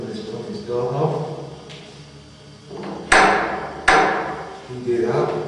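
Two sharp, loud knocks on a doorknob in a dark castle room in southern England during a ghost hunt, separated by a short gap, with a person speaking quietly before and after.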